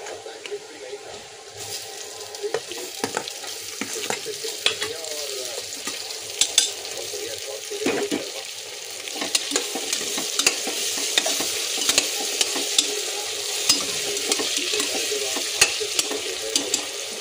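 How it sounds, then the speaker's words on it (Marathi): Tomatoes frying with browned onions in a pan while mutton pulao is cooked, a steady sizzle with repeated scraping stirs throughout, moderately loud and close, with a faint voice in the background. "टोमॅटो पण चांगलं फ्राय होऊ देऊ"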